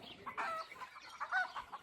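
A rooster and hens cluck faintly on a farm in short bursts, quiet and somewhat distant, over a low background.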